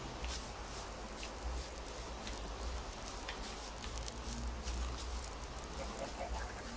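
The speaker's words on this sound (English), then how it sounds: "It's raining." Steady patter of rain falling in a Minecraft world, a continuous dense hiss with soft scattered drops, even and fairly quiet throughout with no clear talk.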